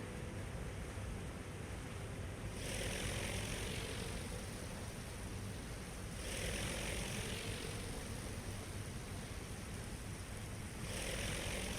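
Fighter aircraft in the Aircraft Carrier Survival game drone steadily overhead, a continuous engine roar that swells into louder passes about every four seconds against a constant background hum.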